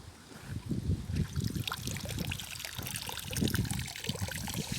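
Water running through a drip irrigation tube for garden plants after the tap is opened, a steady trickling flow with gurgling pulses, close and moderately loud.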